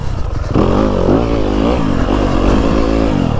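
A 2025 Yamaha YZ250FX dirt bike revs loud and close on a woodland ride, its engine pitch rising and falling with throttle blips over rattling chassis clatter.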